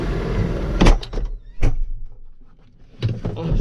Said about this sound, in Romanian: Închide ușa